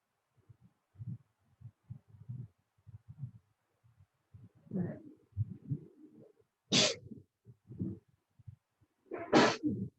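Two sharp, breathy sneezes stand out among quiet low murmurs and breaths, each a sudden bright burst, fairly close.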